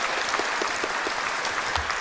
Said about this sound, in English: And the audience is applauding.